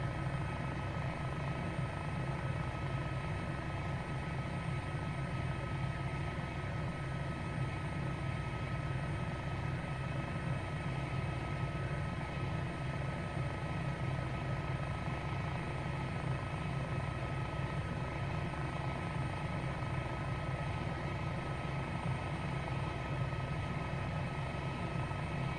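An H125 helicopter in a flight simulator drones with a steady rotor and turbine hum, a constant throbbing low rumble that carries on evenly throughout.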